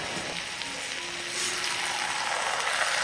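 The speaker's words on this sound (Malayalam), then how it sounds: "ഒരു 3-4 മിനിറ്റ് ഇതുപോലെ ഇളക്കി ഇളക്കി ഒന്ന് ഇത് വറ്റിച്ചെടുക്കാം" Curry reducing in a hot pan gives off a steady, bright sizzle throughout, swelling slightly partway in, with faint stirring underneath.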